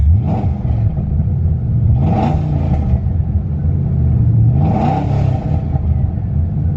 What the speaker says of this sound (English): Let's hit the gas a little bit.